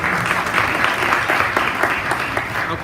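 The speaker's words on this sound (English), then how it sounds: "You've clapped." An audience applauds right after a speaker is introduced at a center's annual state-of-the-organization meeting. The clapping is dense, steady and moderately loud, comes from many hands at once and runs through the whole stretch without talk over it.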